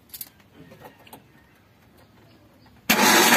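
Starter cranking on a Suzuki APV with a broken timing belt bursts in loudly near the end as a dense, steady whir, after a stretch of faint clicks and quiet workshop shuffling.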